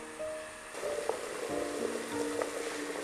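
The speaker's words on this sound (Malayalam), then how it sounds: "അപ്പോൾ ചോറ് നന്നായിട്ട് തിളച്ചിട്ടുണ്ട്." Rice for Kochi-style erachi choru boiling in a pot, a steady soft bubbling and simmering hiss with a few faint clinks, heard alone and close.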